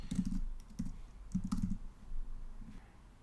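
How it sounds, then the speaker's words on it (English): Typing on a computer keyboard: short clustered bursts of soft key clicks with brief pauses between them, close and fairly quiet. "Okay, so we're going to type in"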